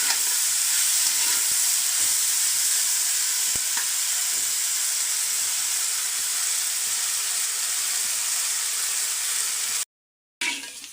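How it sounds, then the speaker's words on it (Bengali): Potato and pointed gourd fry in oil with no water added, giving a continuous bright sizzle and crackle with occasional stirring scrapes, close and steady throughout before a brief cut near the end. "এগুলো ভাজা হয়ে গেছে, তেলের মধ্যে কিন্তু ভেজে নিলাম, আমি কোনো পানি ব্যবহার করিনি"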